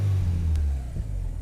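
A turbocharged RX-5 car engine is blipped once, with a deep, loud, close engine rumble that swells briefly and settles back toward idle.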